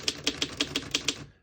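Antique 1919 Underwood No.5 desktop typewriter keys striking the paper, seven crisp evenly spaced clacks in quick succession, close and clear, alone without talk.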